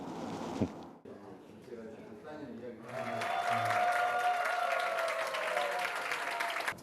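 A speaking voice gives way to a crowd of students and guests clapping at a school opening ceremony. The applause swells to a steady, moderately loud patter with a faint tone held underneath.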